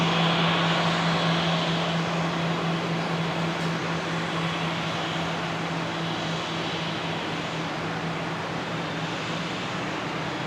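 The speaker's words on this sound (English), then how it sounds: "There it is, the Link Airways Saab coming in from Wollongong" A Link Airways Saab turboprop airliner approaches Brisbane Airport, a steady, moderately loud engine drone with a low tonal hum that stays even throughout, with no talking.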